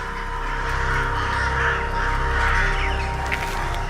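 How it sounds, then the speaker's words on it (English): Crows caw harshly against a steady, noisy outdoor wash, in a wild scene where they face off against a golden eagle; no one speaks. "These crows are not about to stay and pick a fight."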